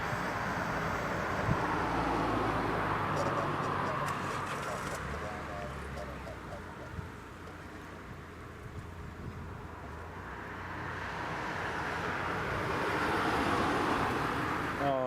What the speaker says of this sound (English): KLM is taxiing